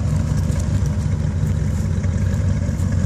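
A 1988 Chevrolet Corvette, started for the first time in almost two years, idles with a loud, steady, even engine rumble throughout.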